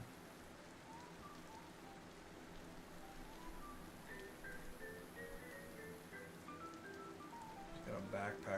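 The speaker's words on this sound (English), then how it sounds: "of course it's raining now." Steady rain falls in the survival video game DayZ, a continuous hiss with scattered drops throughout, while a faint tonal in-game sound drifts underneath.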